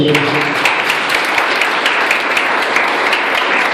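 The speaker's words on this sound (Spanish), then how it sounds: "Démosle el aplauso a Dios." A church congregation at a Venezuelan youth apostolic service applauds, with dense, loud, continuous clapping from many hands filling the room for a few seconds.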